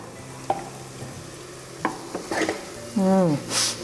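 Food fries in ghee in a pan with a low, steady sizzle, marked by scattered spoon clicks and scrapes and a brief squeaky stir near the end, close by with no voices.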